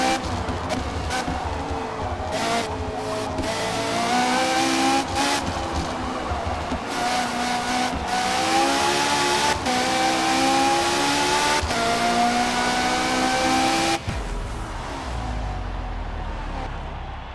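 A race car in Forza Motorsport 4 screams through repeated gear changes, its engine note climbing in rising sweeps, dipping at each shift, then fading and dropping away near the end.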